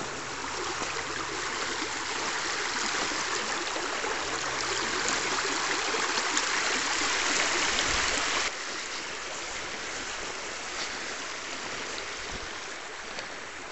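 A shallow tributary stream of the River Finn flowing steadily, a continuous broad rushing and babbling of water heard close by, with a slight drop in loudness partway through.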